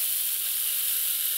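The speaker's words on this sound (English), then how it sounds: "let's make rain sounds with this rain stick" A rain stick tipped to make a steady rain sound, a continuous bright hiss of tumbling beads, close and fairly loud, unbroken for the whole stretch with no talk over it.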